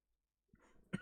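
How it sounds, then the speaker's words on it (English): A short cough or two, close and fairly quiet, a rough burst followed by a sharper hack with nothing else around it. "just coughing and spluttering"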